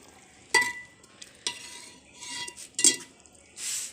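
Vegetable sabzi stirred and fried in a pan, with a few sharp scrapes and clinks of the spoon against metal over a low, steady sizzle, and no talking.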